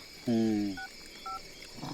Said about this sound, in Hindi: अभी दोस्त को फोन कर रहे हैं